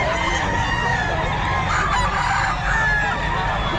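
A bullstag gamecock rooster, 20 months old, crows amid the steady din of a busy Bocaue pet market, its call mixed into dense crowd noise and other clucking fowl.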